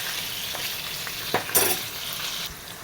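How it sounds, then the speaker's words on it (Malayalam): Fish fries in a little oil in a kadai, a soft continuous sizzle with a few sharper crackles and a small clatter near the middle, alone without talk. "കടായി അടുപ്പത്ത് വെച്ചിട്ട് ലേശം ഓയിൽ ഒഴിച്ച് ഇതൊന്ന് ഫ്രൈ ചെയ്തെടുക്കാം"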